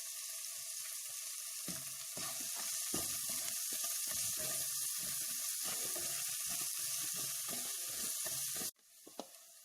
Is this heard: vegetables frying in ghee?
yes